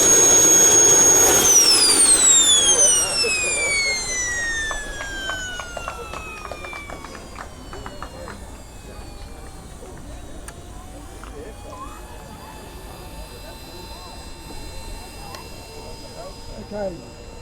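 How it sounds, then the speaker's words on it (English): Homemade gas turbine engine on a go-kart roars very loudly and close with a high jet whine, then spools down into a falling whistle that fades under the background noise. "those of you with little ones, this go-kart is ridiculously loud"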